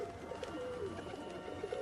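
Pigeons coo softly and repeatedly at a moderate distance, their low murmuring calls recurring through a steady ambient background with no voices.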